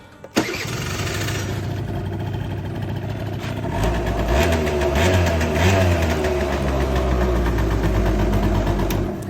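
A Honda Dio 34 scooter engine cranks with a sharp click, catches, and settles into a steady, close idle that rises slightly partway through and keeps running.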